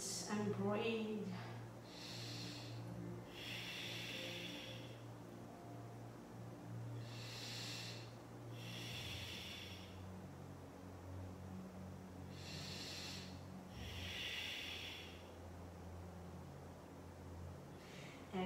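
Deep, slow audible breathing during an Ashtanga yoga practice, with drawn-out hissing inhales and exhales rising and falling in a steady cycle close by, over a low continuous hum and occasional background speech.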